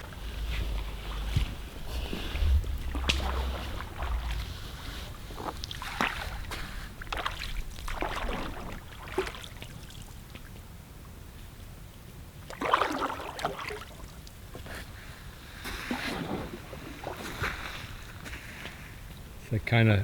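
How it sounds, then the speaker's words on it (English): A boat is paddled out across a wilderness lake, its splashes and strokes mixed with steady wind buffeting the microphone, while voices talk faintly at times. "So the next step is to paddle out, drop this down, paddle back."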